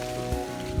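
Steady rain falls in Barbados near sugar cane, a continuous broadband hiss with no pauses, fairly loud and close, with a few low thumps and no talking.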